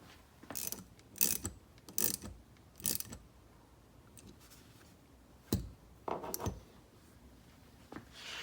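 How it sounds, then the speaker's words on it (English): A socket wrench ratchets a threaded rod into a rod end clamped in a C-clamp, part of an RC buggy steering build; close, crisp ratchet strokes come in short bursts with pauses between, alone without talk. "I'm going to use this socket wrench to drive this piece in"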